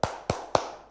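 A close, crisp triple clap: three evenly timed smacks of the hands with short reverberant tails and nothing else around them.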